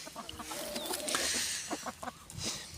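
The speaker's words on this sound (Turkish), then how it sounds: "köylü karışık tavuklarımız vardır" A mixed flock of village chickens, about 30 to 35 birds, clucking and squawking close by, a busy, overlapping chatter with no voices.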